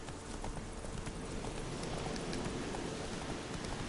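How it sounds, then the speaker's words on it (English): Horse hooves clip-clop steadily in The Witcher III video game, a continuous rhythmic trot heard alone over a dense, noisy game soundscape. "I'm not certain that my horse is getting over that."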